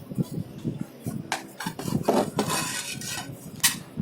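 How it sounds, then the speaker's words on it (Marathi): Chopped potatoes are tipped into a kadhai with a scatter of hard clatters and scraping knocks of utensil on metal, irregular bursts close by and no voices. "आता या आलूंना आपण एका कढईमध्ये काढून घेऊ"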